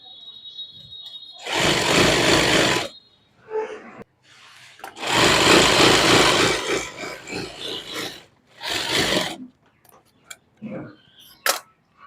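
Sewing machine stitching extra seams on the side of a lined suit, running in three loud bursts of about a second to three seconds each, separated by quieter pauses with faint handling sounds and brief clicks.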